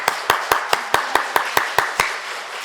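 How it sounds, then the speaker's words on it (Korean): A church congregation claps together in sharp, evenly spaced unison beats, about ten crisp claps in a steady rhythm before stopping. "뜨거운 박수 부탁드립니다."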